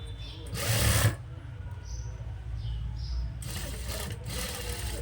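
A sewing machine stitches a puff sleeve on a frock made from a saree, with two loud close bursts of rapid whirring separated by a quieter stretch of faint room noise.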